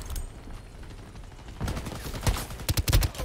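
Gunfire from the online shooter game Shatterline breaks out as rapid clustered bursts of shots in the second half, following a quieter stretch of game ambience.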